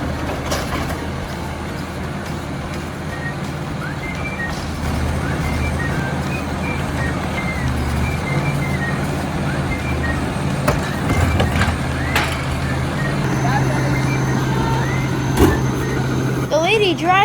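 A Republic Services garbage truck runs its engine with a steady rumble while reversing beeps repeat in short, evenly spaced pulses, and a voice talks over it.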